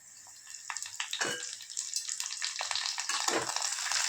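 Curry leaves hit hot oil with sautéed onions, giving a close, loud sizzle that swells and crackles, with a couple of stirring scrapes breaking through the steady frying.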